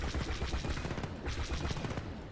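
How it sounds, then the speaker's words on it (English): A cannon in the Star Wars Battlefront 2 video game fires continuously, a loud, dense barrage of rapid booming shots with no gaps, heard close up. "gun overheated before I could even kill it"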